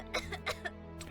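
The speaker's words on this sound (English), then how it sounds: "She started coughing right away, even as she sat up clutching the blankets close to herself." A female character in the horror game Cabin Fever coughs several times in short, close bursts over a low steady background hum.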